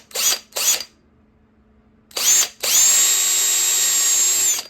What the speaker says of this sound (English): Now I'm going to take my drill. I'm going to drill that seat out.